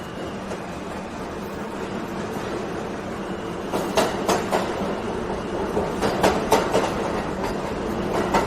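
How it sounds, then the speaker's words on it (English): A luxury train runs through Chongqing with its lights turned out, giving a steady rolling rumble with rhythmic clicking wheel beats that grow sharper and louder partway through, with no talking. "this is a luxury train in Chongqing City with lights turned out"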